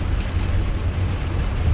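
Steady rain hiss and low road rumble fill a moving car on a curvy rural road, continuous and close with no clear voices.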